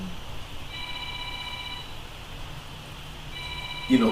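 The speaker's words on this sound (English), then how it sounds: "y'all hear my phone ringing?" A phone rings in the background as steady repeating electronic tones, two separate bursts a couple of seconds apart, sitting faintly under room noise.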